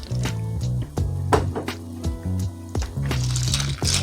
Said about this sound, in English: Now that it has come to a simmer, you can add in your pasta sauce.